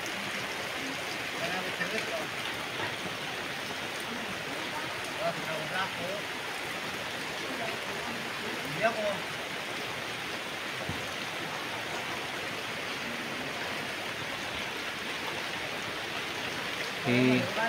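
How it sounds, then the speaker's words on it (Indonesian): Steady rain falls through a night scene in the outdoors near a bonsai tree, a dense, even hiss across the whole stretch with a few louder patters, fairly close and continuous, with no clear voice over it. "hujan-hujan."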